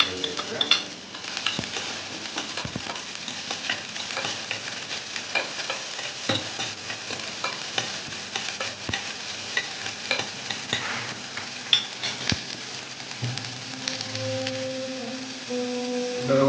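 Sliced onions frying in oil in a pan for a chicken curry, with a steady sizzle under repeated scraping stirs of a spoon against the pan and occasional clinks, all close and fairly loud, with no talk.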